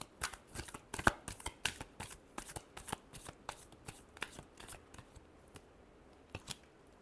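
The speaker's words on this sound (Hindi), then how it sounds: "Last shuffle." Tarot cards are shuffled by hand for a Scorpio reading, with a rapid run of crisp riffling flutters and taps, close and fairly loud, easing off toward the end.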